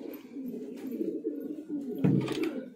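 Pattae and kainchi flying pigeons coo in low, throaty, rolling calls that overlap continuously at close range, growing slightly louder near the end, with no voices heard.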